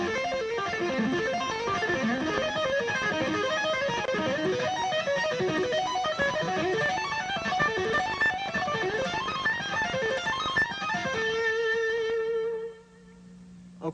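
An electric lead guitar lick climbs in repeating minor-third steps, a fast, continuous, moderately loud run of notes with no talking that rings out and fades near the end.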